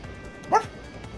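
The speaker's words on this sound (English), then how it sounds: "Thank you for making me bark, Waffle." A single short dog bark in the game Fogpiercer, one sharp yip standing out clearly above a quiet background.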